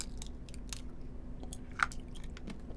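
Tanghulu, fruit skewers coated in hard sugar glass, being bitten and chewed close up, with scattered crisp crunches and clicks at an irregular pace over a quiet background.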